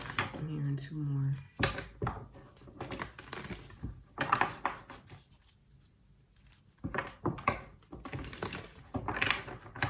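Tarot cards being shuffled, brisk papery riffles and flutters in short bursts, with a quiet pause in the middle and a soft voice talking around the shuffling.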